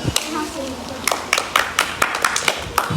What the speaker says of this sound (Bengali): হাততালি হয়ে যাক